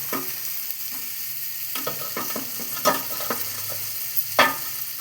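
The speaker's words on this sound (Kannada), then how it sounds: "ಹಾಕ್ಬಿಟ್ಟು ಇದನ್ನು ಸ್ವಲ್ಪ ಚೆನ್ನಾಗಿ ಫ್ರೈ ಮಾಡಬೇಕು" Chopped radish frying in a pan for radish sambar: a steady close sizzle with scattered scraping stirs, a louder clack near the middle and another toward the end, no voices.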